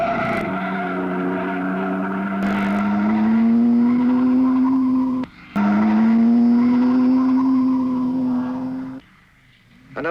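An Alfa Romeo racing car in the 1953 Mille Miglia roars past, its engine note climbing through two long rising sweeps with a brief cut between them, loud and close, then dropping away.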